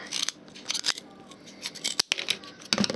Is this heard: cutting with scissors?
yes